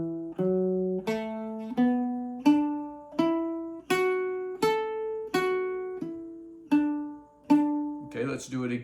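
Baritone ukulele picking a major scale one note at a time, about a dozen clear plucked notes in steady rhythm climbing and then descending, close and alone, with a brief brushy noise at the end.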